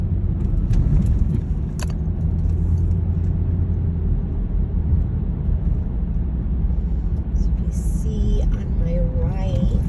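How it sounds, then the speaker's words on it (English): A car driving through the streets of Brooklyn, New York, heard from inside as a steady low engine and road rumble, with a voice speaking and a brief navigation chime over it. "We're driving through."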